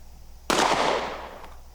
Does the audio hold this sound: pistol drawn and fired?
yes